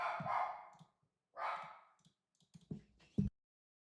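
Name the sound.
neighbour's puppy barking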